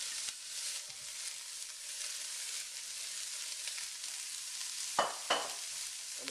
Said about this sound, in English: So I'm going to add all the vegetables I diced up earlier